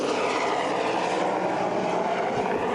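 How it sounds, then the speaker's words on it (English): A loud, steady anti-poaching helicopter drone thrums overhead at a safari park without a break, filling the whole stretch with dense rotor and engine noise. "Oh, sorry about that helicopter going overhead."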